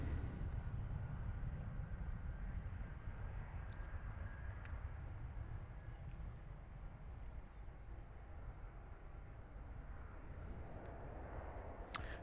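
A heavy airliner takes off at Christchurch Airport, its jet roar a steady, fairly distant rumble held throughout.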